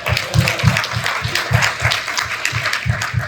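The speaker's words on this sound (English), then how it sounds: "All right, round of applause." Audience applause at a tech conference talk, with irregular clapping over a rhythmic low thumping beat, moderately loud throughout.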